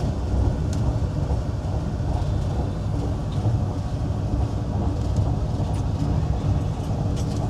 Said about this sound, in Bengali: আর এখন ট্রেন ঢুকছে নবদ্বীপ ধাম।